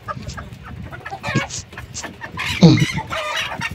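Micro bantam hens and pullets clucking close by in short, irregular bursts, with a louder squawk near the end over low yard background.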